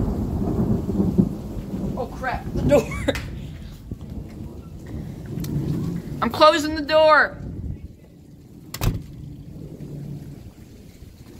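Heavy thunder rumbles and cracks through a rainstorm, with steady rain in the background and a few sharp, loud booms, while a person talks nervously nearby.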